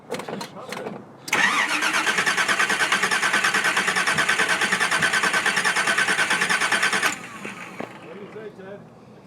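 A Big Green ZZ6 crate engine cranks loudly and steadily on its starter during an engine swap, a fast even whirring churn lasting about six seconds before cutting off, with voices talking around it.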